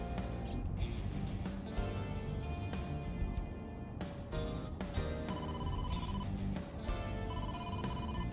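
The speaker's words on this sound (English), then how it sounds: "incoming call from the boss" A phone rings with an incoming call in the detective game AI: The Somnium Files, repeated bright electronic ringtone bursts in a steady pulsing rhythm over a backing music track, with no talking.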